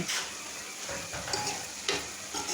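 Sweet pumpkin and shrimp bhaji is stirred in a pan, giving close sizzling with repeated scraping strokes of a spatula, steady and fairly loud with no voices.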